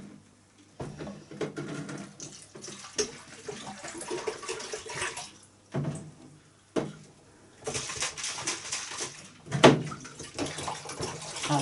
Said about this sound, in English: I'll start pouring my water into there